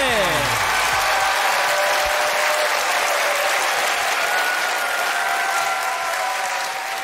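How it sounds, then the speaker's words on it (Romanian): A stand-up comedy crowd breaks into loud, sustained applause and cheering as the comedian takes the stage, a dense roar of clapping that stays strong throughout and fades slightly at the end. "haideți cu un rând puternic de aplauze pentru al nostru invitat special, Bogdan Mălăele!"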